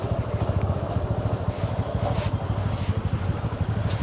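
A motorbike engine runs on the road toward Risang waterfall in Khagrachari, a close, steady pulsing throb that holds at a low rumble throughout with no talking.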